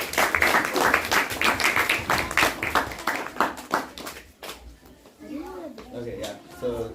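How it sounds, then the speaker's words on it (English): Audience clapping after a talk at a spiritual gathering, distinct sharp claps in a quick uneven rhythm that thin out and fade, with voices speaking near the end. "So everybody can clap again for sure."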